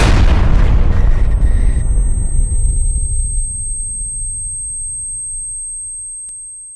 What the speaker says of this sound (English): Tamburine, Symbol, and Drum are all caught up in a massive blast